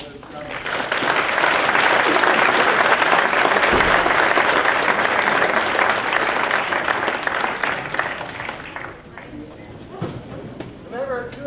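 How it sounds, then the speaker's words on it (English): An audience at a lecture on feather colour genetics breaks into a loud round of applause that swells quickly, holds steady, then thins out into scattered claps and a few voices near the end. "Let's give Dr. Domyan another round of applause."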